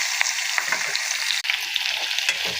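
Small onions sautéing in oil, a bright continuous sizzle up close with scattered pops and light stirring scrapes throughout.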